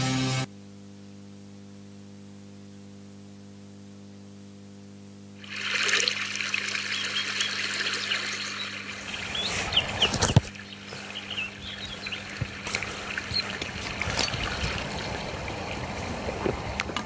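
Tap water running in a radio advert: a steady trickling, splashing stream starts after a low hum and continues fairly loud to the end, with no talking.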